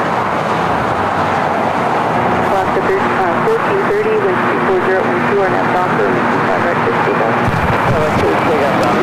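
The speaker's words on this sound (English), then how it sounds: "Is that freshly painted JetBlue A321 heading to Boston, flight 188?" A freshly painted JetBlue Airbus A321 bound for Boston roars with a loud, continuous engine rumble and whine at an airport, while people talk over it nearby.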